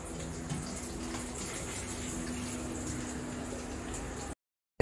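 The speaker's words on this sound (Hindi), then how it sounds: "चलिए अब हमारे ब्रेड रोल जो है वो फ्राई हो रहे हैं।" Bread rolls deep-frying in oil in a kadhai give a steady, dense sizzling hiss with faint bubbling, continuous and close, then cutting off abruptly near the end.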